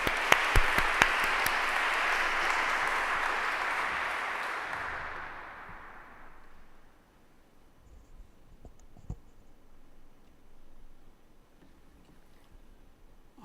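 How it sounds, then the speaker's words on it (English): Warm audience applause for three speakers at an evening lecture, a dense burst of clapping that holds for about five seconds and then fades out, leaving a quiet room with a few faint stray sounds. "So let's give our three very accomplished speakers a very warm word of applause."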